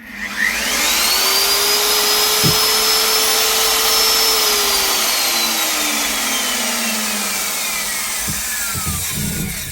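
A handheld core drilling machine for boring through walls and roofs runs loud and steady for the whole stretch, with a high motor whine that rises and then slowly falls, plus a few sharp knocks toward the end.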